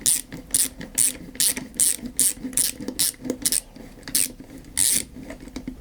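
A ratchet wrench works a reverse-thread nut on the throttle body of a Peugeot 205 GTI, giving a quick series of close, crisp clicking bursts in an uneven rhythm.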